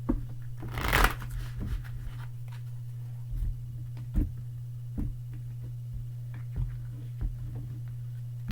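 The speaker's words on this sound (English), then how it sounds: "I'm going to shuffle the cards a bit and pull out 3 cards for you." Tarot cards shuffled by hand with a loud riffle near the start, followed by soft, regularly spaced taps and slides over a low steady hum.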